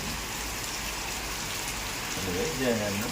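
Steady rain falls at Mahabaleshwar hill station, a dense, even hiss close by, with a voice briefly rising over it near the end.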